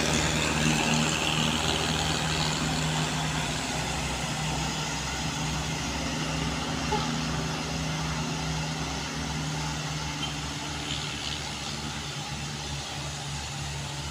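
A palm oil truck climbing a hill, its engine droning loud and steady for the whole stretch with a low rumble that eases slightly toward the end.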